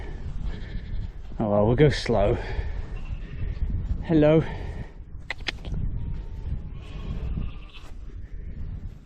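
Sheep bleat nearby, two wavering calls and then another, while a person speaks briefly over outdoor background noise.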